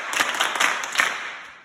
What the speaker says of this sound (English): Everybody clap for him.